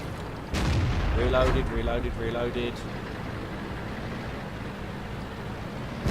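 A KV-2 tank's big cannon fires in the World of Tanks video game, one heavy boom with a rumbling tail, followed by a steady engine drone and a voice talking over it.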